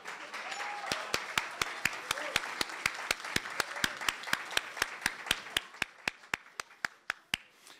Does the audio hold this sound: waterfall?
no